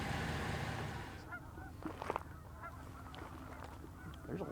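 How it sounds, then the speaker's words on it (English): Canada geese in a large flock honk in overlapping calls over a snowy field, a steady chorus of mid-distance honks with a few louder, nearer bursts. "There's a lot of birds in this area."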